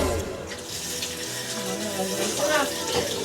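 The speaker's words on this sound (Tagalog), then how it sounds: "Siyempre hugasan muna natin para malinis ang ating kakain." String beans (sitaw) rinsed under a running kitchen tap, a steady close splash of flowing water with a voice talking over it.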